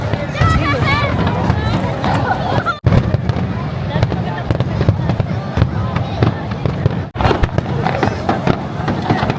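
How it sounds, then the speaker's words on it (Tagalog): A fireworks display at a summer festival in Japan, with dense, loud bursts and crackling one after another, running over a steady crowd hubbub and nearby voices. "nagsimula na po yung fireworks display"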